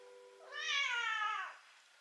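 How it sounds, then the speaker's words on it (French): Roro the cat gives one drawn-out, close meow asking for food, rising and then falling, in a quiet room. "Tu miaules? C'est quoi tu veux? Du manger?"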